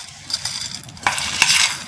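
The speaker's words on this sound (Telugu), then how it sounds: "ఇలా మొత్తం కలిపేసుకోవాలి." Ingredients mixed in a pan for roasted chana snacks, close scraping and stirring strokes with a steady faint sizzle, growing busier toward the end, no speech.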